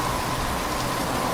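Steady rain falls on a stormy Kalbaisakhi night, a dense, even hiss of drops on surfaces that holds at the same loudness throughout, with no voices.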